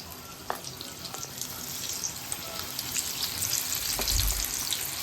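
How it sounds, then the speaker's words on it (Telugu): Mushroom pakodas dropped into hot oil one by one set off a continuous loud sizzle that swells toward the end, with a few faint clicks of utensils. "మనం దీన్ని మెల్లిగా ఒక్కొక్కటి ఇందులో పకోడీలా వేసుకుందామండి"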